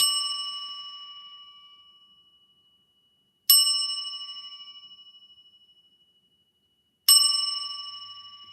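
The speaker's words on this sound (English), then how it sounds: "We're going to ding this little bell here to clear out the space." A small handheld bell is struck three times at even intervals, each bright ding ringing out clearly and decaying slowly into silence before the next strike, near and alone.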